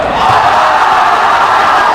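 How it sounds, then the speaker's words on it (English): Spectators at a Colonials versus Lynn boys basketball game keep up a loud, sustained roar of shouting during free throws. The mass of voices swells after a brief opening and then holds even in an echoing gym. "The crowd's getting into this game."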